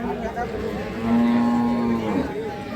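A dairy cow at the Ambari cattle market in Dinajpur gives a single long, loud moo in the middle, over a busy crowd murmur.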